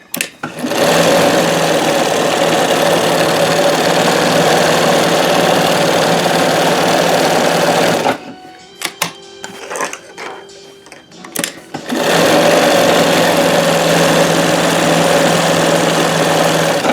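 Janome 672 and Singer 161720 sewing machines stitch steadily with a loud, continuous mechanical hum and needle chatter. It stops for a few seconds in the middle with light clicks, then resumes.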